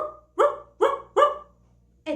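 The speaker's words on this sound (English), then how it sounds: "what is the sound of the dog? The dog does like this." A dog barks three times in quick succession, then once more after a pause, each bark sharp and fairly close against a quiet background.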